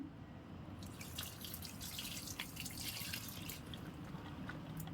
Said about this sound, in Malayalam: ഇതിപ്പോൾ ഞാൻ എൻ്റെ ഈ മണി പ്ലാന്റ്സിന് ഒഴിച്ചു കൊടുക്കുകയാണേ